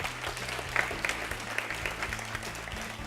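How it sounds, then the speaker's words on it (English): Audience applause at a national school quiz final, a steady wash of clapping from a crowd that holds throughout with no talk over it. "they deserve a round of applause"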